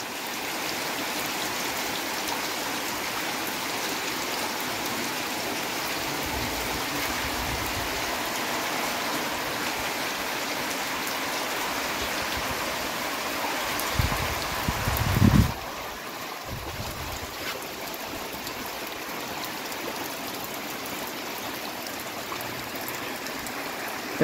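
Steady rain falls over the sertão near Uruguaiana in the Quixadá region, Ceará, a continuous broadband hiss with a brief louder rustle near the middle and no voices.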